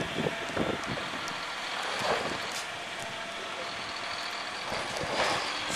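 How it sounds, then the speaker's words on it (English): Cars creep slowly along an icy, snowy University Way, heard as a soft, windy engine and tyre hiss with faint passing swells. "And there's cars just creeping along."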